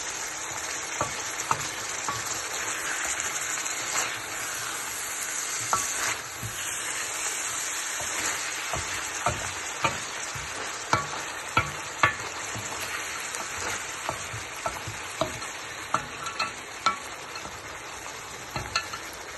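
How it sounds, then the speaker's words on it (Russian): Meat frying in a hot Chinese wok while being stirred: a loud, continuous close sizzle with repeated sharp scraping and clicking taps of the utensil against the pan, growing more frequent toward the end. "Сок уже испаряется, мясо начинает поджариваться."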